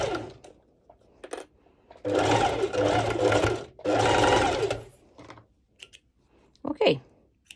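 A home sewing machine running a straight stitch on bikini fabric in two sustained loud bursts, with quiet handling clicks and pauses around them and a brief voice near the end.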